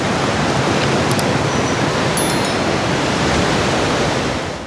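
Water of the Koovam River at Manaval Nagar, Tiruvallur, rushing past near a bridge, a steady dense broadband wash that stays loud and unbroken throughout, with a few faint high chirps above it.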